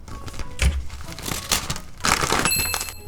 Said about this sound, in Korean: 네 번째 비닐 소리가 나고 있어요